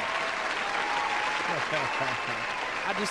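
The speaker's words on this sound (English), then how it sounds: "Can I get some hand claps for that name?" Audience hand claps fill a radio studio broadcast, a steady wash of applause running throughout with a voice speaking briefly over it near the end.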